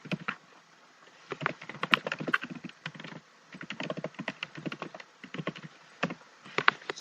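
Fingers type on a computer keyboard while creating a link in Google Docs, with quick bursts of close, crisp key clicks separated by short pauses and no voices.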